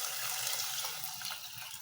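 Water poured into a pot of rice while cooking beef pilau at home, a steady, close, fairly quiet rushing gush with no pauses and no talking.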